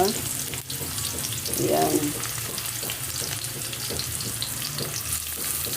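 Onions sizzle and crackle in hot oil in a pan, a loud, steady frying hiss broken by bursts of stirring, with a brief spoken word over it.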